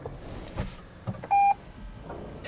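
A single short electronic push-button start beep sounds clearly over a low background hum inside a Toyota Corolla ZR Hybrid, with a few faint knocks around it.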